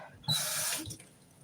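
A kitchen tap runs water for about half a second to wet bread for Thanksgiving stuffing, a bright steady gush that starts abruptly and then fades off.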